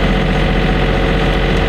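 A sailboat's inboard engine runs inside its cramped engine room during a solo Atlantic crossing, a loud, steady, close mechanical drone with a low throb and no talking.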